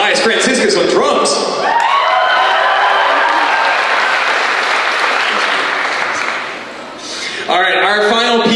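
Loud, sustained applause from the audience at a school spring band concert, dense clapping with scattered cheers that dips briefly near the end while an announcer begins speaking over it.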